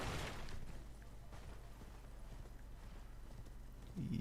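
A horse moves with soft clip-clop hoofbeats in the video game Elden Ring. The steps are faint and close under a low ambient drone, with a thump near the end.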